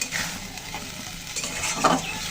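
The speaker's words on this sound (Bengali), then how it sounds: "জল দিয়ে ওই জলটুকু টানা পর্যন্ত সুন্দর করে আবার কষিয়ে নেব মাছ তরকারি একসাথে" Rohu fish curry with potato and greens stir-fried in a pan: a close, steady sizzle with scraping strokes of a spatula, fairly loud and with no voices.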